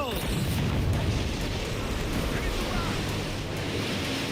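Heavy ocean waves roll and crash in the stormy sea of Assassin's Creed Black Flag, a loud continuous roar of surf and wind, with a voice faintly underneath.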